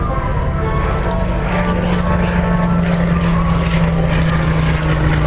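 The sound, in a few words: Hawker Hurricane propeller aircraft flying past at an airshow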